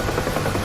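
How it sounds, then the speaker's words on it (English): UH-1 Huey helicopter in flight in the DCS combat simulator, a steady, dense rotor and turbine drone that holds even and fairly loud throughout with no voices. "it's after you get a little bit of practice in this helicopter, it's actually quite fun to fly"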